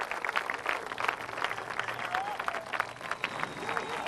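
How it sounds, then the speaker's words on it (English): Crowd of onlookers clapping and cheering as a lost humpback whale swims to freedom, moderately distant steady applause with scattered voices mixed in. "And when he finally succeeded, everyone cheered."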